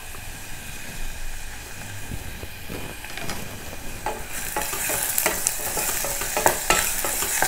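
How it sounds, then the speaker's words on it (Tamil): Onions stirred and fried in a pan, with a moderate crackle that grows into a louder, brighter sizzle partway through, punctuated by repeated clicking scrapes of a spoon against the pan, with no voices. "இப்போ இதில் தகுந்த அளவு இந்த வெங்காயத்தை சேர்த்துக்கலாம்."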